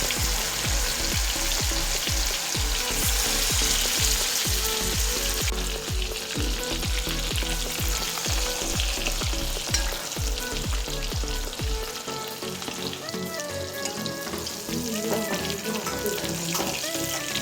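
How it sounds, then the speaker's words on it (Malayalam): Chicken pieces fry in hot oil for a chicken fry biryani, with a loud, continuous sizzle and rapid rhythmic clacks of stirring for most of the stretch, easing into a calmer bubbling fry near the end. "അപ്പോൾ നമുക്ക് ചിക്കൻ ഓരോന്നായിട്ട് ഈ എണ്ണയിലേക്ക് തന്നെ ഇട്ടിട്ട് വറുത്തെടുക്കാം"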